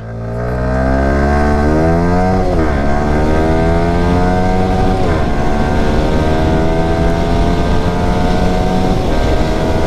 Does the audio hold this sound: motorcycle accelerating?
yes